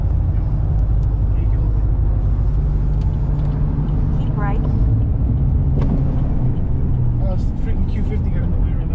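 A GM LS V8 engine drones loud and steady from a car out on the road, a continuous low rumble with brief higher whines and other passing traffic layered over it.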